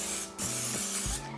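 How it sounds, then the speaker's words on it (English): Cooking spray hisses from an aerosol can onto two 8-inch cake pans in short bursts, close and fairly loud, with a brief pause between sprays. "I like to use cooking spray."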